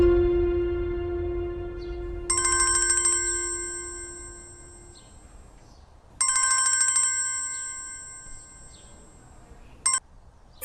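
A telephone ringtone rings in repeated bursts, each lasting about a second with pauses between, clear and fairly loud in a quiet room.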